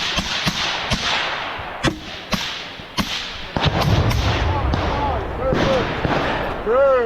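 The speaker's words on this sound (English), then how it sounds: "Covering fire." Sharp gunshots crack out repeatedly in urban combat in Ukraine, close and loud, in irregular bursts over shouting voices and the clatter of movement.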